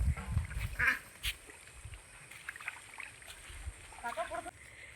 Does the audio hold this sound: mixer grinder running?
no